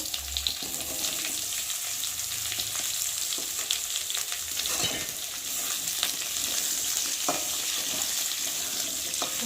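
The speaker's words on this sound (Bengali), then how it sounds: "আলু বেগুনটা একটু ভালো করে তেলের মধ্যে ভেজে নেব।" Potato and eggplant chunks frying in oil in a home kitchen pan, a continuous close sizzle with occasional stirring clinks, no voices.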